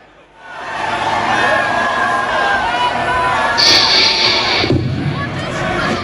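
Crowd yelling and shouting at a chaotic rock gig in Australia, a dense, loud roar of voices and babble that swells in within the first second and stays steady, with a brief sharper burst midway.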